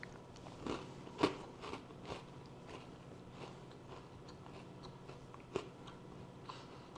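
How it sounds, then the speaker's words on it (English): Homemade ginger biscuits crunch when bitten and chewed, crisp outside but chewy in the middle: a series of sharp, close crackling bites and softer chewing over several seconds, with no talking. "You should be able to hear that crunch in my microphone that I have here, but they're still chewy in the middle"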